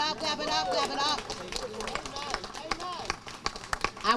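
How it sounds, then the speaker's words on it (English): Crowd at an outdoor Juneteenth flag raising ceremony clapping along to a sung worship chorus, with sharp rhythmic claps over singing and music, fairly loud and steady throughout. "Clap it up, clap it up, clap it up."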